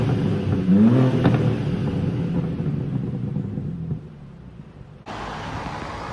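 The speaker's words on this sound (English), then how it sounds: "So I figured I would get a couple little before clips of the car revving" A BMW G87 M2 engine revs up with a short rising whine near the start, then settles into a steady low rumble before a brief drop and a return of broad noise, close and fairly loud with no talk.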